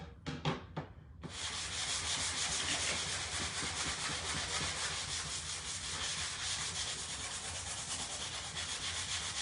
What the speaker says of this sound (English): I definitely want to go ahead and sand it down just a little bit